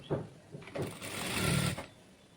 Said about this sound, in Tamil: இந்த ஓப்பன் வர இடத்துல பார்த்து நம்ம ஸ்டிச் கொடுத்துக்கலாம்